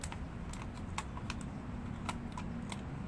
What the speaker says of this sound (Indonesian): sekarang gue pakai gunting, jadi gue tinggal motong samping-sampingnya